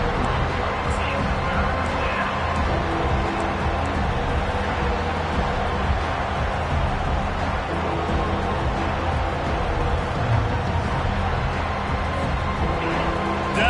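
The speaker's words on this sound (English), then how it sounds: "Decibels rising as the crowd gets behind this defense on 3rd down." A football stadium crowd roars steadily on third down during a college football game against Utah, a dense, continuous wall of cheering and babble holding loud throughout.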